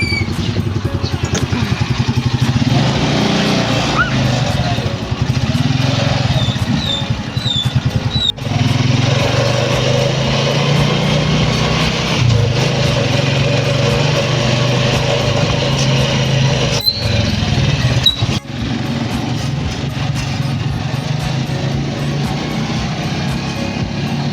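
A motorcycle-with-sidecar tricycle engine runs steadily and close by for the whole stretch, a loud buzzing idle and ride with brief dips in level, no talk over it.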